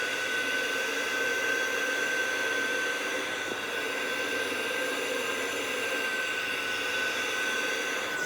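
A Fanttik Textra 11 Apex cordless carpet spot cleaner runs with a steady motor whine and a constant airy rush at an even, moderate level. No one speaks over it.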